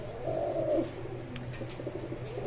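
Large Silver Lakka pigeons coo softly nearby, one clear rolling coo followed by quieter overlapping murmurs over a faint low background hum.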